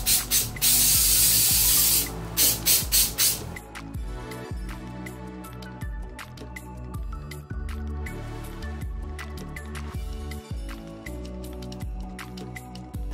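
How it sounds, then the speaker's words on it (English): Spray adhesive hissing from a can onto a cotton candy wig made of wool, with several loud bursts at the start, then quieter rubbing and handling sounds. "I'm just spraying in a little adhesive and then laying that down."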